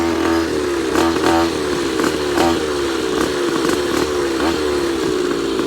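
Small gas engine on a Goped bladeZ-style stand-up scooter with a swapped engine, ridden at a park, buzzing and revving steadily up and down, close and loud throughout.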